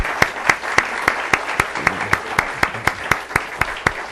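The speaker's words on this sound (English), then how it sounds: "I would like to invite you all to join me in applauding the speakers." Sparse, evenly spaced claps ring out at a symposium as a small audience applauds panel speakers, around four sharp claps per second, each a distinct close slap in a quiet room.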